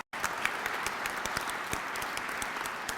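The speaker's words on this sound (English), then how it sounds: "join me in giving them another round of applause" Guests at a Washington luncheon marking the 100th anniversary of Albanian independence break into a round of applause, a full, even wash of clapping that starts abruptly and carries on steadily for about three seconds.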